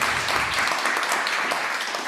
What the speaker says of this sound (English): Let's get a round of applause for the excellent panel